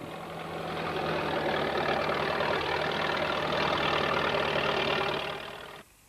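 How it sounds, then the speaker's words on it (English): A steady, rumbling engine of a tractor pulling a plough runs at a constant idle-like pitch throughout, then drops off sharply at the end. "The tractor-drawn ploughs turned the soil"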